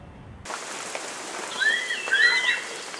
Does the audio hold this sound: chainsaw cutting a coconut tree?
no